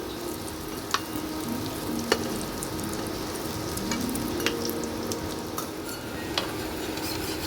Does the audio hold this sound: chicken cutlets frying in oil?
yes